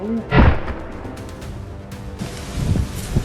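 Gunshots ring out during a wild boar hunt in open country: a loud booming shot, then two more reports a couple of seconds later, each trailing into an echo.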